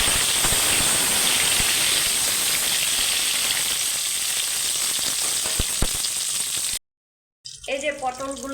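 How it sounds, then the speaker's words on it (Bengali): Salted, turmeric-coated pointed gourd (potol) sizzles loudly and continuously in hot oil, a dense close hiss with crackles, cutting to silence before a short burst of other noise. "এবার আবার তেলটা গরম হয়ে এসছে, আমি পটলগুলোকে ভেজে"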